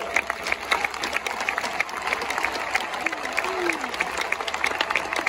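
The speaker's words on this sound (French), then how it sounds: "Acclamons très fort." A church congregation applauds and cheers loudly, a dense, sustained wave of clapping that fills the space with no pause throughout.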